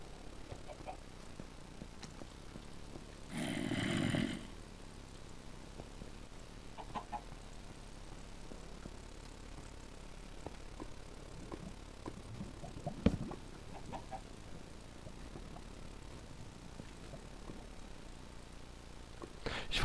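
A Minecraft chicken gives a short burst of clucking early on, fairly clear against a quiet background, followed by sparse faint clicks and a single sharp tap later.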